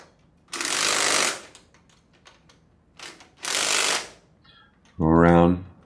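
Ratcheting and mechanical clicks from tightening the hanging-bracket bolts on a Sandpiper HD20F diaphragm pump, coming in three loud close bursts with brief gaps between, the last one sharper and more tonal.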